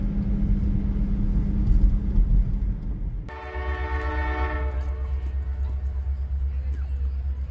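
CPKC Holiday Train locomotive 2246 sounds a loud multi-tone horn partway through, after a steady rumble of an approaching train, with outdoor crowd noise throughout.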